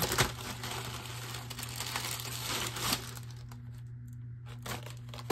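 An envelope holding a Beyblade is torn and crinkled open close by, with rustling paper crackles, a few sharp tears and brief pauses, no talking.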